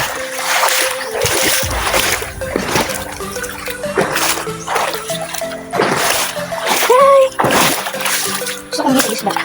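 Sea water splashes hard in repeated surging bursts near Siargao, loud and close, probably against a moving boat, with voices talking over the spray.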